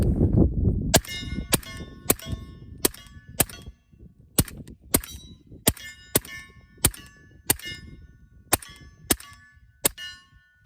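A suppressed 300 Blackout rifle fires again and again: about a dozen sharp, clanging reports with a short metallic ring, spaced roughly half a second to a second apart, loud and close.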